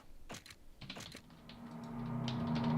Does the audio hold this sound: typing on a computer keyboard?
yes